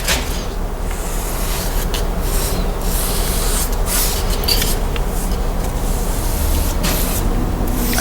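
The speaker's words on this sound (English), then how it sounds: "I'm just slopping the paint onto the wall" A paintbrush slops paint onto a wall while trim is being painted, producing a continuous close wet swishing and brushing hiss with rhythmic strokes and no talking.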